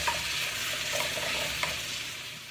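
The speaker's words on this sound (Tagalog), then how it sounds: "Ayan, haluin natin siya." Meat being stirred in a pot while cooking Salona Marag, an Arabian stew: a steady wet sizzle runs throughout, with a few soft scraping strokes of the spoon, close and without any talk.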